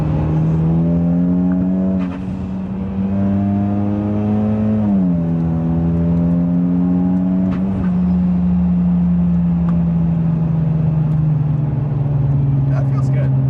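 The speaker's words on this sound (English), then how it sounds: "Let's go and take it through this corner" A modified Hyundai Genesis Coupe 2.0T engine drones steadily, its pitch dipping and rising as it takes a corner, with the note held near and loud throughout.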